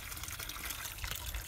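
Water runs steadily from an open pipe where an old toilet once stood in an abandoned mill, a constant hissing gush that holds at the same level throughout with no talk.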